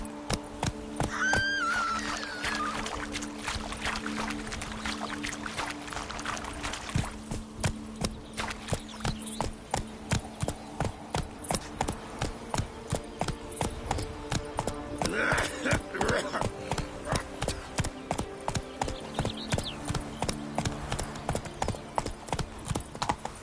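Horse hooves clop in a fast, steady rhythm in the video game The Witcher, continuing without a break, with a horse whinnying briefly near the start and again midway over a low tonal background.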